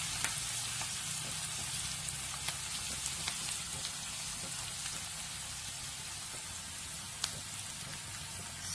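Green chilies sizzling in hot oil in a pan while drumstick curry is made, giving a steady, close crackle of frying with small pops scattered throughout and no talking.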